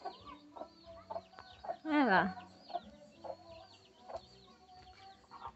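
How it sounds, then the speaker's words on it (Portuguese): A hen clucks softly on a farm while her chicks peep thinly around her, and one louder squawk stands out; someone speaks briefly nearby. "A galinha com os pintinhos."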